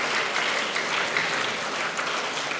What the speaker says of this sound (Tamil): அது கைத்தட்டலையா?